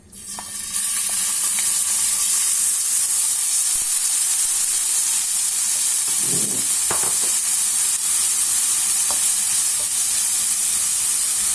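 Onion fries in hot oil in a pan, giving a loud, steady, hissing sizzle that starts abruptly and holds, with a few clatters of utensils partway through.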